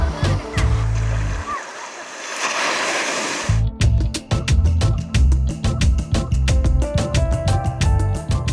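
Large waves break and wash over Grand Anse beach on La Digue, Seychelles, a loud surging crash followed by steady churning surf with scattered knocks and rumble close by.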